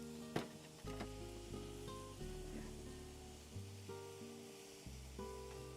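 Steak sears on a hot griddle with a steady crackling sizzle, close up and continuous, while a low hum runs beneath it and one sharp tap sounds early on.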